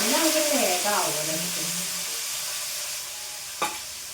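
Chopped onion and garlic fry in a pan on a gas stove with a steady hissing sizzle; someone talks over it at first, and a single sharp clink sounds near the end.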